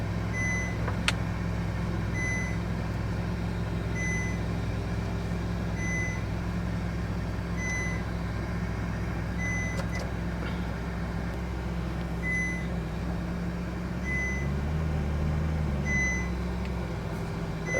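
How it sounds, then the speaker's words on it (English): Vehicle backing up with its reverse alarm sounding, a regular series of evenly spaced high beeps about one per second over a steady low engine hum, which shifts briefly near the end. "That's that beeping noise, just saying, okay, it's in reverse."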